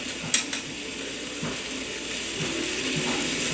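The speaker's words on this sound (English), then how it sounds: "And then I'm going to give the leek a nice sear like this." A leek sears in a little leftover oil in a pan over medium-low heat, with a couple of sharp utensil clinks against the pan early on, then a steady, close sizzle that carries on alone.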